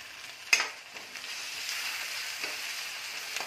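Tomato and onion sautéing in a pan as the base for a pomfret fish curry, giving a continuous close sizzle that swells slightly after a sharp utensil clink and a few soft stirring scrapes.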